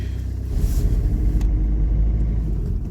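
A car engine rumbles steadily while driving on a cold winter day, heard from inside the cabin as a loud, continuous low hum with no one talking.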